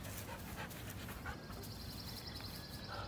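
A dog panting softly at close range, quick, faint breaths over a noisy background.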